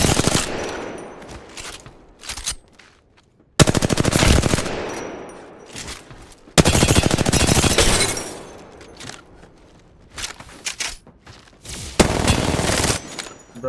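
Bursts of automatic gunfire from a video game weapon with heavy recoil, loud rapid volleys starting and stopping in several separate strings with short quiet gaps between.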